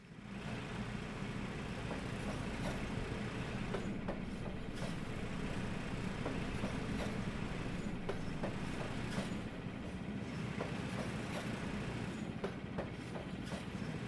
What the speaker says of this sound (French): Dans la petite locomotive, enfin le petit machin, un petit engin rigolo.